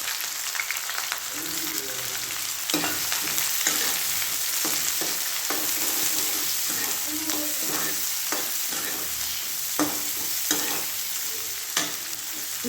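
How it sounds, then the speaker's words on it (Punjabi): Sliced onions frying in hot oil in a kadai, a steady close sizzle broken by repeated scraping and stirring knocks of a spoon against the pan, no talking. "ਆਹ ਤੇਲ ਆ ਜਿਹੜਾ ਗਰਮ ਹੋ ਚੁੱਕਿਆ ਹੁਣ ਆਪਾਂ ਇਹਦੇ ਵਿੱਚ ਪਾਵਾਂਗੇ ਜੀ ਆਪਣੇ ਜਿਹੜੇ ਕੱਟੇ ਹੋਏ ਚੀਰੇ ਪਿਆਜ਼ ਸੀਗੇ"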